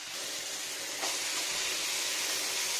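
A curry of egg, eggplant, potato and tomato with ginger, onion and garlic fries in a pan on a stove at full heat, giving a steady, bright sizzling hiss that grows slightly louder partway through.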